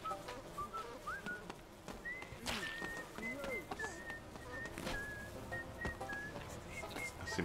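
A whistled tune from the video game Goat Simulator 3 rises as a thin melodic line in repeated phrases over busy game background sounds and occasional thumps.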